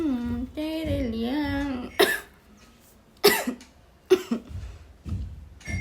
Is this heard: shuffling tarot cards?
no